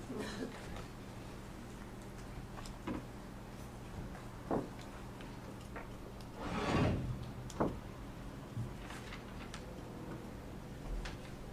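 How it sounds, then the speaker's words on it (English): A door in an indoor room being shut, a single muffled slide and thud partway through, moderately loud over a quiet, steady room background with no talking. "I'm going to close the door so we can hear each other."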